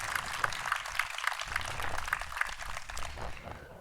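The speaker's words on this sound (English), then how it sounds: "Yes, that definitely deserves a round of applause." A crowd applauds at a building naming ceremony for an innovation center, a steady wash of many hands clapping together for a few seconds without a break.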